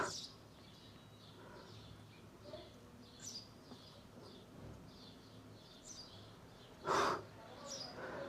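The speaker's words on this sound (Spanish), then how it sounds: "¿cómo se escuchan los pajaritos?" Small birds chirp outside near a third-floor window of a house, scattered high tweets repeating faintly through steady background noise, with one brief louder burst.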